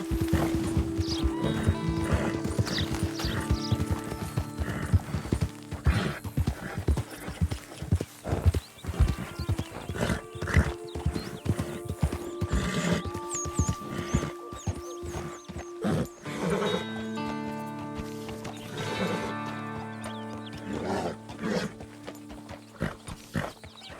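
Horse galloping in Red Dead Redemption 2, with rapid, steady hoofbeats running throughout at close range and whinnies breaking through, set against a dense game soundscape.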